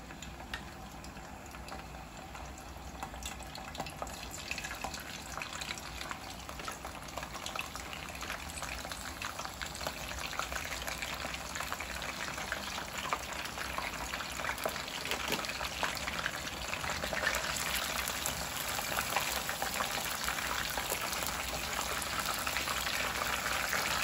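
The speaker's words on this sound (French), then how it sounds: "je vais maintenant faire cuire mes morues" Cod pieces cook in boiling water, a faint, continuous bubbling and rolling churn that swells gradually over time, with no voices.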